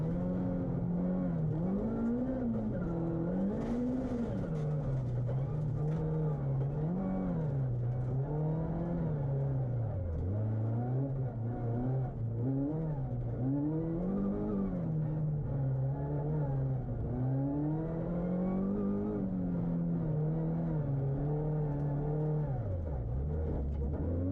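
Onboard a rally car at speed on the Knockhill circuit, the engine drones steadily, rising and falling through gear changes and revs for a long continuous run with no talk.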